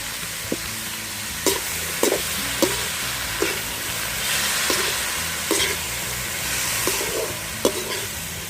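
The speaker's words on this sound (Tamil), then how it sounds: "அடுத்ததாக கட் பண்ணி வச்சுருந்த அவரைக்காயை சேர்த்துக்கலாம்" Broad beans sautéed with onions in oil in a pan, a steady sizzle broken by repeated sharp scraping knocks of a stirring spoon against the pan, with no talking.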